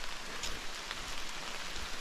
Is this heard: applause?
no